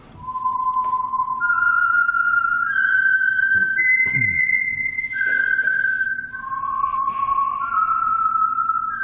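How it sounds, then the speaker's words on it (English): A lone whistled melody, the theme signal of The Whistler radio program, rises and falls in long sustained notes over a faint background hum, with no voices. "That whistle is your signal for the Signal Oil program"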